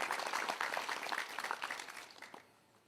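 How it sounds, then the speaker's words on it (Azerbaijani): Clapping from an audience greeting a finalist in a contest, dense and continuous at first, then thinning and fading toward the end. "Və Reyhanə Məmmədovanı da alqışlayırıq."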